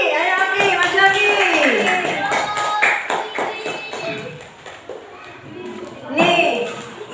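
Children in a classroom clap their hands for a classmate, a short burst of bright, uneven claps mixed with a teacher's voice and children talking over and around it.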